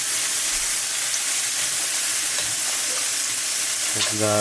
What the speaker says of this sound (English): And you want to move your pasta so it's all the way underwater.